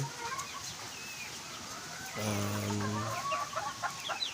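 Cuban hens clucking close by, a steady run of soft clucks with one longer, louder throaty call in the middle and scattered chirps around it.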